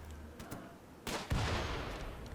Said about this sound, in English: Oof, that was a big explosion.